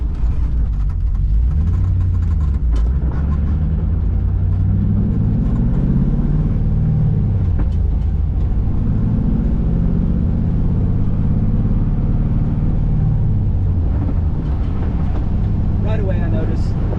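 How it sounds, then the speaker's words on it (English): A Mercedes SL fitted with an LS2 V8 drives along, heard from inside the cabin as a loud, continuous low engine drone that swells and eases with the throttle and holds its revs after lifting off. "when I let off the gas, the RPMs kind of stay up a little bit, like they're lingering."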